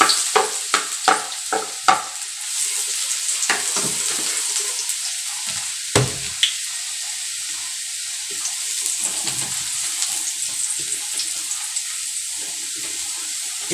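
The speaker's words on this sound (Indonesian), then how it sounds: "Sekarang minyak kita dah panas. Kita bubuh ni, bawang putih." Garlic dropped into hot oil crackles and sizzles loudly at first with sharp pops, then settles into a steady fine frying hiss as it cooks.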